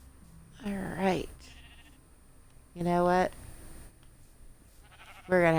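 Sheep in the Minecraft video game bleat in three short, wavering calls spaced a couple of seconds apart, with a brief spoken phrase between them.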